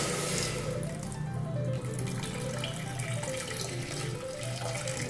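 Water running into a vessel over raw plantains with turmeric and salt, a steady close gushing pour that holds at an even level throughout, with no talk.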